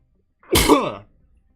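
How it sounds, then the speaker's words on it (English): A single person sneezes once, sharp and close, with a quick breathy burst and then silence. "I needed to sneeze, but I couldn't for a second."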